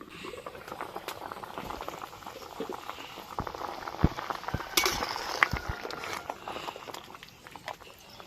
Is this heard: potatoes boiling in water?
yes